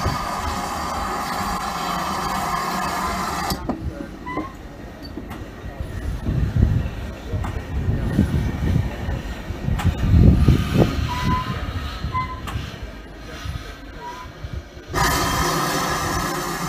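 Great Western Railway locomotive 6695 on a test run rumbles past with low, steady rolling noise and clanking, swelling in the middle then easing, moderately near, under a broad background hiss.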